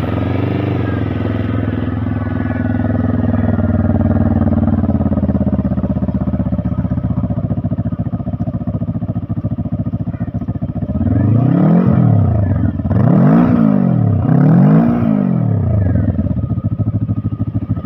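A loud, steady Harley-Davidson motorcycle engine idling with a deep, throaty rumble, then blipped a few times in quick revs near the end.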